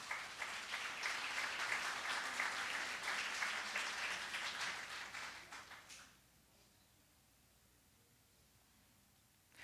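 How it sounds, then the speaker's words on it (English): A crowd at a Veterans Day ceremony applauds a veteran just named, a full, even clapping that lasts about six seconds before fading into quiet room tone. "Please give that a good round of applause."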